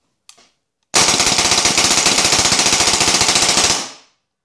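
A Bob Long Defiant 2 paintball gun fires in semi-automatic mode: one quick pop, then a loud, close, rapid string of about thirty shots lasting nearly three seconds, with no voices.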